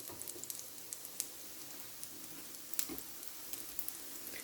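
Aloo bread sandwiches frying in hot oil, a soft steady sizzle with scattered crackling pops, quiet and continuous throughout.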